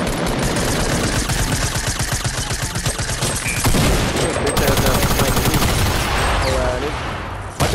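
Rapid gunfire in Fortnite, loud and close, with dense bursts of automatic shots firing in quick rhythmic streams throughout, one barrage running into the next, while players talk over the shooting.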